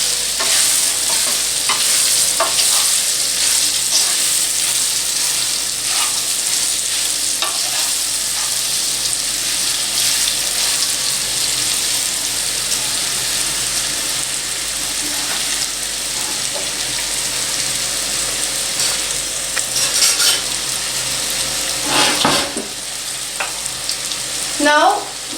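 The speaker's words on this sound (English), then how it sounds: "Now adding garam masala and stirring all of the raw bananas with pieces with our mixture" Raw banana pieces with garam masala stirred in a sizzling frying pan: a steady, close frying hiss with continuous scraping and stirring strokes throughout, no voices.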